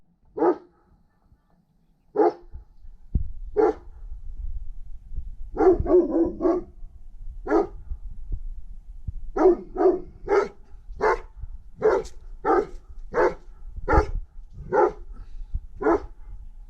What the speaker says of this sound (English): What you woofing at?